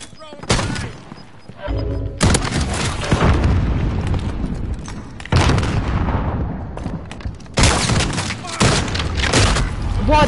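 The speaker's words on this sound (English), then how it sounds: "Throw a grenade!" In the Warzone video game, deep booming grenade blasts and bursts of gunfire come in loud repeated waves, with near and far explosions overlapping throughout.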